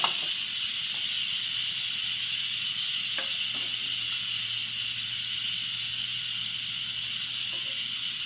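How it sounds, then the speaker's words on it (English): Instant Pot pressure cooker venting steam after cooking jambalaya, a loud steady hiss running unbroken throughout with a few faint clicks and knocks underneath. "now we're going to release the steam"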